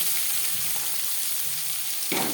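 Chopped onions drop into hot mustard oil already frying panch phoron and bay leaves, giving a steady close sizzle that swells into a louder hiss near the end.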